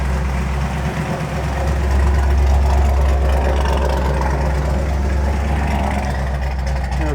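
A car engine with a Holley 4160 carburetor idles in neutral at around 900 rpm, a steady, loud low rumble close by with a slight rise partway through and no voices.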